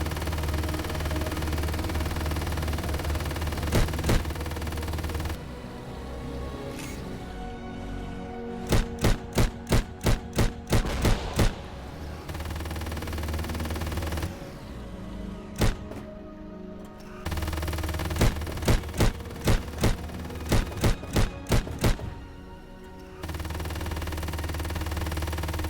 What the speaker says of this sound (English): the machine gun keeps its original sound